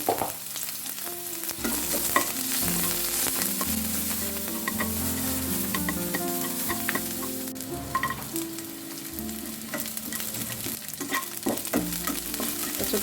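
Chopped garlic and a small onion sizzle in soybean oil in a pan, a steady frying hiss with light stirring running throughout under prominent background music.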